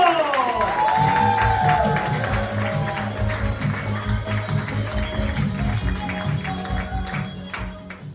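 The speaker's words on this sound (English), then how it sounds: "Please, clap your hands, let's go!" A comedy club crowd in Manchester claps and cheers as a set opens, loud and sustained, with tonal music running underneath and occasional voices rising from the room.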